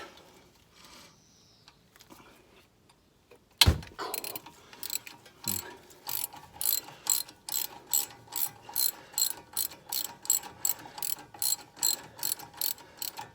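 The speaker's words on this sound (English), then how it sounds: "On the top you have to use quite a long bar, because obviously the brake pipe's in the way." A long-bar ratchet works a Ford Kuga MK2 front brake caliper bolt. After a quiet stretch comes a sharp crack, then a run of loud, rhythmic ratcheting clicks close by.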